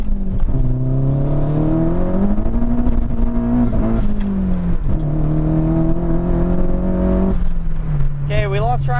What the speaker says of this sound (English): We might do a little pull here.